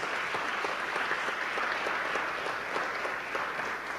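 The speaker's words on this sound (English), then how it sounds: "Let's give Henry a round of applause" Steady applause from an audience fills the room at moderate volume, a dense even patter of many hands clapping with no voices over it.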